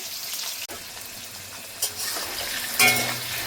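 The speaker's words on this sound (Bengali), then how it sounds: "ভেজে নিচ্ছি হালকা করে।" Tangra fish frying lightly in oil in a pan, a steady close sizzle with occasional stirring scrapes and a sharp clack, then a louder burst of spitting oil near the end.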